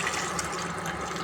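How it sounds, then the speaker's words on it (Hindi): A glass of water is poured into a cooking pot of mixed vegetables, potatoes, peas and carrots, making a short, close, continuous splashing stream with no talk over it. "1 गिलास पानी ये मैं डालूँगी"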